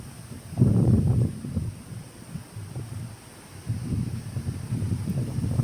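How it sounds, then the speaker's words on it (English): Gusty wind buffeting an outdoor microphone beside a small Lincolnshire drain, coming in heavy low rumbling bursts that swell, drop away, then return, with no voices. "I'll say the wind's really got up now"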